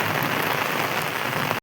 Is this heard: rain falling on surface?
yes